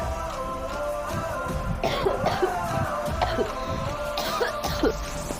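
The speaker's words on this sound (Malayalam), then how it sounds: "എനക്ക് ഇടക്കിടക്ക് ചുമക്കെല്ലാം ചെയ്യും" Several coughs and throat-clearing sounds from a person with a mild cold come in bursts over a steady background hum, close and fairly loud.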